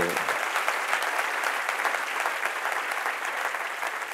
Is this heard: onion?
no